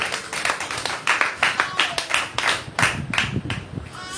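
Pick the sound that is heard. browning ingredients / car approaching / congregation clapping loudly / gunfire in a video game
congregation clapping loudly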